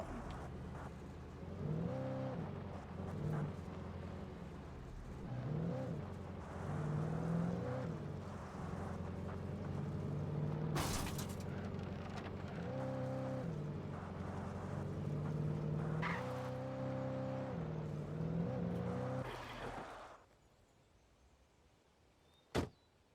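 A car drives in the video game Alan Wake Remastered, a steady engine drone with revving pitch swells running for about twenty seconds, then cutting to near quiet before a single sharp click from the handbrake.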